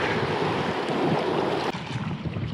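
Rushing whitewater on the Devils River, a loud continuous roar of rapids with wind buffeting the microphone, dipping slightly near the end as the churning carries on.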